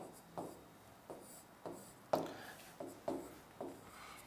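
Handwritten notes during a lesson, heard as a series of quiet, separate scratching pen strokes that come in short bursts at a fairly regular pace, close up with no talking.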